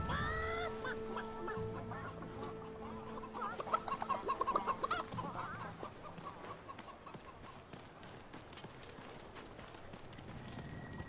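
A chicken clucks in the video game Fable III, with a few loud clucks and squawks at first, then busy game sounds and hoof-like clopping that fade to a quieter background.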